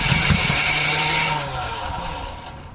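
A 1982 Buick Regal engine revving hard as the pedal is pressed, a loud rough roar that holds and then drops away toward idle, with talk nearby.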